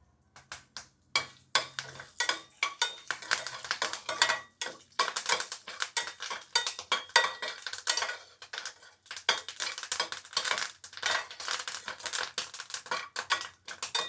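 Rapid crackling and popping of urad dal, dried red chillies and curry leaves frying in hot oil for a chutney tempering, dense irregular bursts with brief pauses, close by and fairly loud, no voices.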